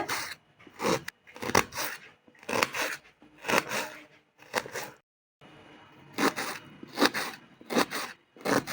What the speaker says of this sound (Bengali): আমার মেয়ে পেঁয়াজগুলো কুচি কুচু করে কেটে দিচ্ছে